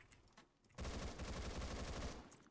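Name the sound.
binary-fire gun shooting in Phantom Forces video game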